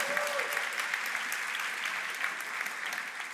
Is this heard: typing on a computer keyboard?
no